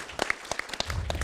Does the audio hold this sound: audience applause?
yes